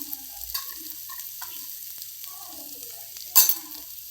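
Potatoes sautéing in a pan for bharit, with a soft intermittent sizzle and a few scraping stirs, one louder scrape near the end, fairly close and with no talk.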